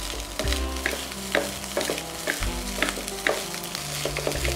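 Rice fries in a pan with bell pepper and ham, hissing and sizzling loudly and steadily while a utensil stirs and scrapes through it in repeated strokes; no voices.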